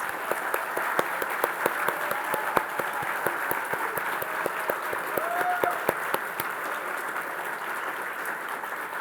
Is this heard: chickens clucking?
no